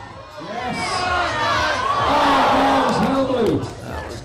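Spectators cheer and shout at a climbing competition final, a loud, sustained crowd roar that swells in the middle with whoops and voices rising over it.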